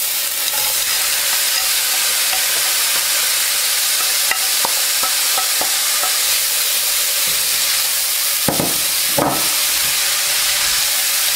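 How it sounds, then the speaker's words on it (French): Minced meat hits a hot pan for lasagne and sizzles loudly, a steady dense frying hiss with a few scraping stirs and knocks of the utensil toward the end, no voices. "je peux verser ma viande hachée"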